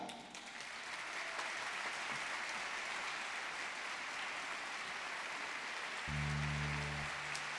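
Applause from an audience at the Ciudad Deportiva Don Bosco for a singer: broad, steady clapping from a large crowd that holds throughout, with a low hum joining near the end.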